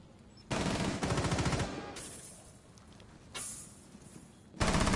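Bursts of automatic gunfire in a competitive esports shooter match, with three or four rapid volleys separated by brief lulls, sharp and fairly close.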